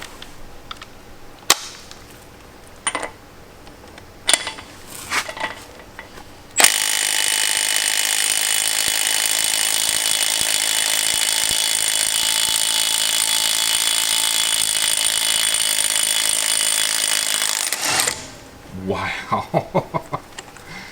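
A Milwaukee M12 Stubby 1/2-inch cordless impact wrench hammers continuously for about eleven seconds during a torque test, framed by scattered clicks and clanks of handling before and after.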